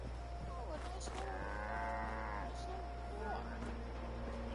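Cows moo in Fallout 76 near a farm stall with corn, one long low call standing out over a steady droning background, with a fainter second call after it.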